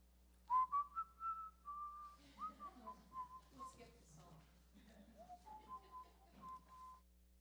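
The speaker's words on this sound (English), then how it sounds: "You can whistle the whole time." People at a chaplain's gathering whistle a melodic tune with sliding pitches, faint and soft, and murmuring voices run underneath.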